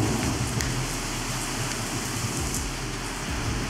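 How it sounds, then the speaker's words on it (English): Steady storm rain pours down, a dense even hiss of drops striking surfaces close by, continuous and fairly loud with no voices. "It's been pretty much raining. Just like this, storms, dark, and everything all day long today."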